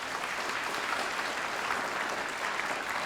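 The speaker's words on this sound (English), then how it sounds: "Give them a round of applause for supporting you through your studies here." Graduation ceremony audience applauding families and supporters: dense, continuous clapping from a large crowd, steady and even throughout with no voices on top.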